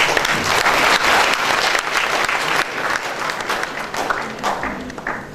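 An audience at a French book-signing event applauds warmly for the author: dense, sustained clapping from many hands, loud and steady throughout, easing slightly toward the end.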